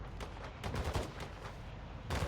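Distant bursts of AI gunfire in a shooter video game, a quick series of muffled cracks spread over two seconds, fairly faint.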